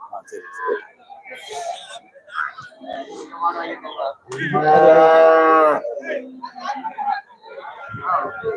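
Cattle at the Melapalayam livestock market give one long, loud moo partway through, surrounded by murmured talk and whispering from people nearby.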